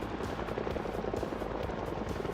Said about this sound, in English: the helicopter spawns